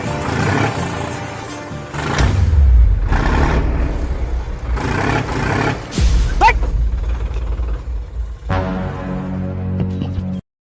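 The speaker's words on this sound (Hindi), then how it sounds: "पहले के पहले यहाँ पर ट्रैक्टर फंस गई" A tractor stuck in a muddy farm field revs hard in loud, surging bursts, the engine rising and falling repeatedly with roaring strain and brief dips between pushes.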